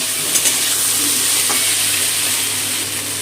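Raw mango pieces frying with eggplant in a pan, giving a loud, steady, close sizzle with a few faint utensil touches.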